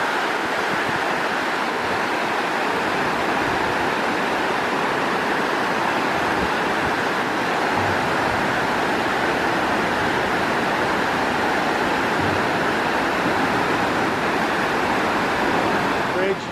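Loud, steady roar of rushing white water rapids, a continuous broad wash of churning water with no breaks.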